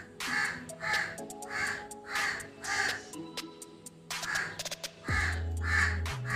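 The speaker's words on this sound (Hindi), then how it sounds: "कौवा खाने का कुछ मांग रहा है" Crows caw in repeated harsh calls, about nine in a steady rhythm, loud and fairly near, with a low hum entering toward the end.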